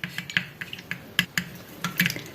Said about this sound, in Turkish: hepsini iyice karıştırıyorum. Hızlı hızlı karıştırın